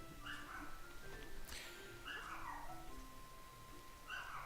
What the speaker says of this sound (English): any little thing can trigger my dogs if you're hearing that in the background